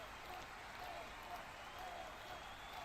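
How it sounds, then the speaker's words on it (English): Steady, dense wash of applause from a packed home crowd at Old Trafford during a Manchester United versus Nottingham Forest Premier League match, a standing ovation heard faintly and continuously at a distance. "given a hero's standing ovation and applause from the home crowd"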